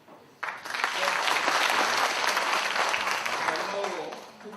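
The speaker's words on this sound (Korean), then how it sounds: "박수로 맞이해주십시오" Sustained audience applause at a Korean housing managers' day panel discussion, rising sharply to a loud, dense wash of clapping that holds for several seconds before easing slightly.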